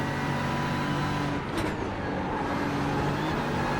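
LMP2 prototype race cars in the iRacing video game, a steady engine roar with a brief whooshing pass as one closes in and goes by.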